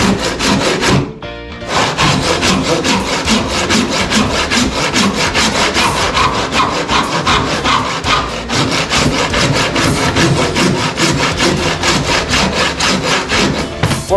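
Handsaw cutting through laminate flooring boards, guided along an offcut of laminate, with steady rapid back-and-forth rasping strokes that run loud and close for the whole span after a brief pause near the start.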